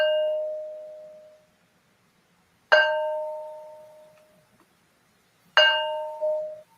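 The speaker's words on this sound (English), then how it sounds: "Demonstration how these stones ring like bells." A heavy stone of about 15 kilos is struck three times at slow, even intervals, each hit giving a clear bell-like clang that rings out and decays over a couple of seconds.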